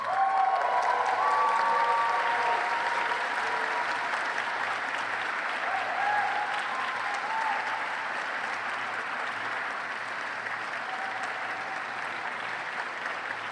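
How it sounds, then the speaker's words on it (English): Sustained applause from a standing audience at a medical school white coat ceremony, steady clapping filling the hall and slowly tapering off. "giving them a round of applause"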